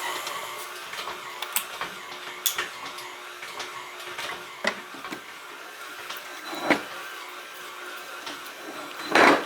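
A stand mixer kneads sourdough pizza dough at a low, steady motor drone, with quiet rhythmic knocks and clicks as the dough slaps around the bowl.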